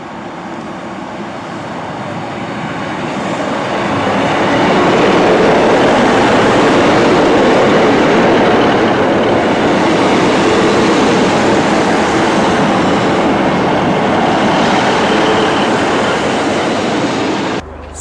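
A train passes through Gathurst Railway Station in West Lancashire, a broad, steady rumble of wheels on rail that swells over the first few seconds and then holds loud and close for the rest, with no voices.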